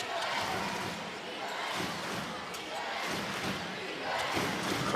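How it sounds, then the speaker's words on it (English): Arena crowd at a Wichita State vs FAU college basketball game, dense and loud throughout with rhythmic chanting swells and occasional thuds, no clear single voice on top. "Crowd chanting defense to get the Owls into this one."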